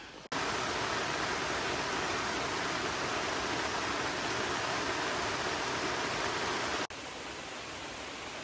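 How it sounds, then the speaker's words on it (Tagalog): Heavy rain pours down outdoors over a tomato garden, a dense, steady hiss that starts abruptly, holds loud and even for several seconds, then drops to a slightly softer level. "And the rain comes."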